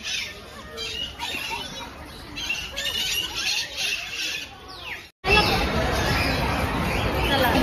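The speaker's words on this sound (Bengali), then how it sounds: "এই হচ্ছে আমাদের ভারতবর্ষের জাতীয় পাখি ময়ূর।" A peacock at Alipore Zoo in Kolkata gives loud, harsh squawking calls over a background of crowd chatter and babble, followed by a burst of louder, noisier sound near the end.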